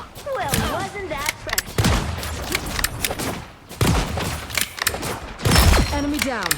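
Rapid gunfire from a video game shooter, rattling bursts and sharp shots repeating across the stretch, loud and dense, with a person talking over the action.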